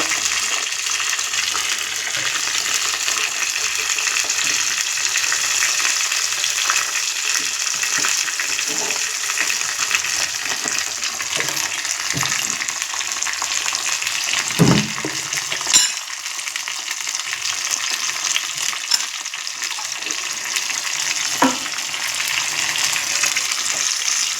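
Continuous, fairly loud sizzling of food frying in a pan, with occasional clinks and stirring scrapes.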